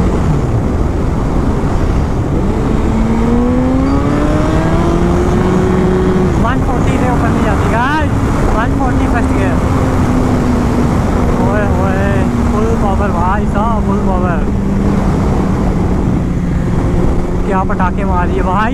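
A Suzuki Hayabusa superbike accelerates on a road after crossing a speed breaker, with a loud, sustained engine drone and scattered sharp exhaust pops. Someone talks over the engine throughout.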